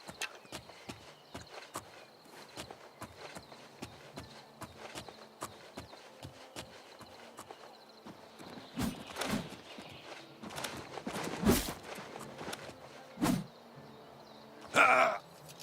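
Horse hooves approaching in the video game Oblivion Remastered: steady clip-clop footfalls grow closer over ambient game sound, followed by a few louder thuds and a brief bright chime near the end.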